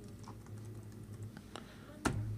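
Computer keyboard typing in a quiet room, a short run of light scattered keystrokes with one louder clack near the end.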